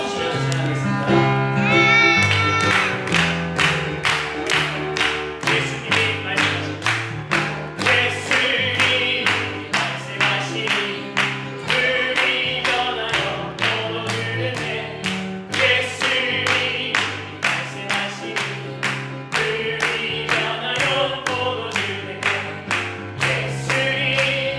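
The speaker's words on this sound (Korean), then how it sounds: "이렇게 박수 치면서 찬양하겠습니다" A Korean Methodist church congregation claps along at Sunday worship, sharp even claps beating in steady time under loud sung praise and instruments that fill the whole stretch.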